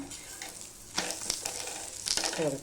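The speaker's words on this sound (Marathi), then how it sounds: "आपण असं छानपैकी भाजून घेऊया" Bottle gourd paratha roasting on a hot pan, a soft sizzle with a couple of brief scraping sounds as the flatbread is pressed and turned.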